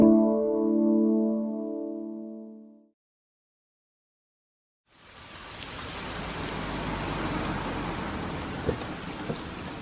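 Heavy rain falling in a steady, dense hiss with occasional rumbles, starting after a sustained musical tone and a moment of silence, then continuing loud and unbroken to the end.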